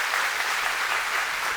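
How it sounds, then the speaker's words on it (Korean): A church congregation applauds newly baptized members during a Sunday worship service, a dense, steady wash of clapping from many hands that holds evenly throughout. "우리 인사하실 때 박수로 축복해 주시기 바랍니다"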